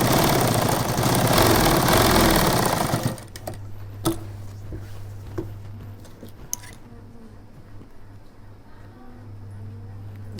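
A sewing machine runs fast and steady while stitching a shirt collar, a dense whirring burst for about three seconds, then a lower motor hum with faint clicks and taps continuing to the end.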